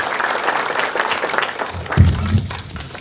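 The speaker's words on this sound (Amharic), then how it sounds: "አጨብጭቡለት።" Audience at a religious talk clapping, a steady patter of applause at moderate volume with a couple of low thumps toward the end.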